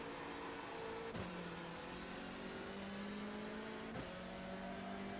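A TCR touring race car at Spa pulls hard at full throttle, its engine note climbing steadily through the revs with two quick upshifts breaking the rise, loud and continuous from inside the cockpit.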